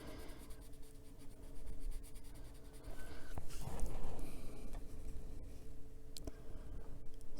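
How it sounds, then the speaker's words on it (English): A pencil scratches steadily over black ink on paper while an adult coloring page of a luna moth is filled in, a soft continuous rasp with small shifts in stroke rhythm and no talk. "So because this is a pencil, I'm going to go over the other black that's already on here."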